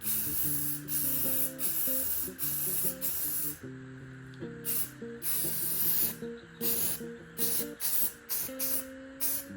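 Spray paint hissing onto a jazz kit guitar body in repeated short bursts, fairly close, with a steady low tonal hum running underneath the spraying throughout.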